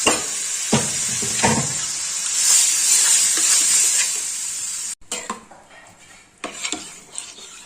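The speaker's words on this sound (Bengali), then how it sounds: "নাড়িয়ে নিয়ে তার মধ্যে ডালটা দিয়ে দেবো" Sambar masala and dal being stirred in a pan, with steady hissing sizzle and light metal scraping of a spoon against the pan, a brief pause, then a few more scattered clinks and scrapes. No talking.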